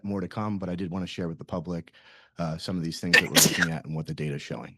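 A single sharp sneeze bursts out partway through a speaker's remarks at a public commission meeting, close and brief, with talking before and after it.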